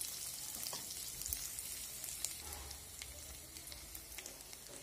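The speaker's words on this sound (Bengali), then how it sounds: "মশলাটাকে ভালোভাবে কষে নেব" Spice masala with turmeric and chili powder frying in a pan for a mola fish curry gives off a soft, steady, fairly faint sizzle with occasional small pops.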